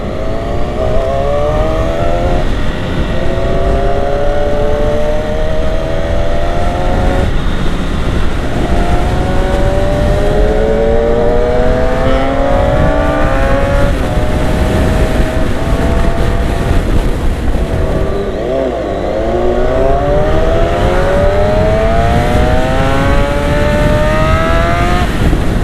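A Kawasaki ZX6R and a Honda CBR600 sport bike accelerate hard on a road through Jeneponto, their engines rising through repeated climbing whines and gear shifts, loud and close over wind roar.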